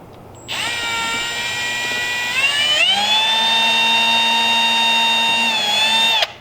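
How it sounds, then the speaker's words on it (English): A power drill drilling holes in a car whines up to speed and runs steadily at high pitch for several seconds, close and loud, then cuts off. "I'm like drilling holes in your car on a Saturday night."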